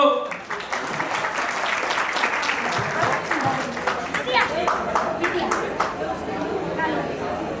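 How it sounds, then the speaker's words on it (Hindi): Guests at an engagement party clap together in a sustained burst of applause, dense and fairly close, with some chatter mixed in underneath. "अरे यार तालियां तो दो।"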